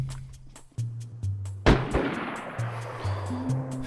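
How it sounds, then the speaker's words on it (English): A single sharp gunshot in the video game DayZ cracks out and rings off, standing clear above soft in-game footsteps and faint background hum. "Is that a gunshot?"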